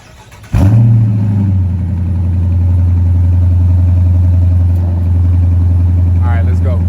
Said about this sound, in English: we're gonna get a little cold start right quick before we hop in this joint.